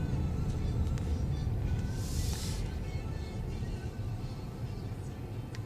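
Mercedes-Benz GLE350 with a 7-speed automatic transmission accelerating smoothly, heard from inside the cabin as a steady low engine and road rumble that stays even throughout, with no voices.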